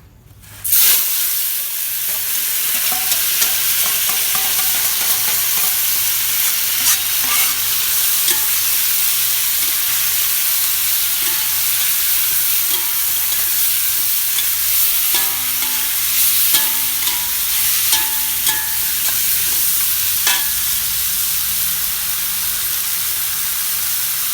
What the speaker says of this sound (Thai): ใส่ปุ๊บผัด ไม่ถึงหนึ่งนาทีขึ้นได้เลย นี่ไฟค่อนข้าง กระทะค่อนข้างร้อนมากๆแล้ว ควันขึ้นเยอะแล้ว